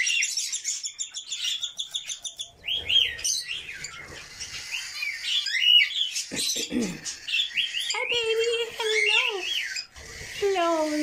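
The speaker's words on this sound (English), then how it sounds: "it's just with all the other birds, it's kind of hectic." Pet budgies and finches chatter in an aviary with busy, overlapping chirps, tweets and squawks. Close and lively, with no voices.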